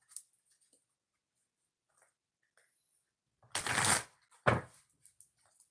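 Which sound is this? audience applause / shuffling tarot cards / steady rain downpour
shuffling tarot cards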